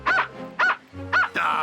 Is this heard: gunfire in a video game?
no